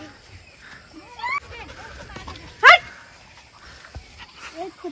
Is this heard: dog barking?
yes